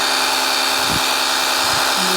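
A Ryobi 18-volt cordless power cleaner runs with a steady, close, high-pitched motor whine and water spray, without pause for the whole short burst.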